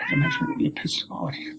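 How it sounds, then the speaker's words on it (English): A cat meows indoors, one drawn-out close call at the start, and then a man keeps lecturing over softer bits of its noise. "Sorry, that's my cat."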